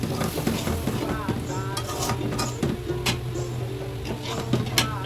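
Spices frying in a large wok on a stove while layer chicken curry is cooked, with continuous sizzling and repeated scraping stirs and metal clinks, close and steady throughout.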